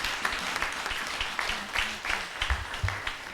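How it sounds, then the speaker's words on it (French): An ordination ceremony audience applauds for Pastor Emmanuel and his wife, with uneven, moderately loud clapping that rises and dips while voices murmur underneath. "On nous applaudit, c'est pasteur Emmanuel et son épouse"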